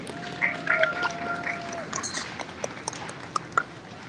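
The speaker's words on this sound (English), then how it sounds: "Let's give these exhibitors a nice round of applause." An audience at a 2023 swine show gives the exhibitors a light, scattered round of clapping under a busy background with some voices and animal noises.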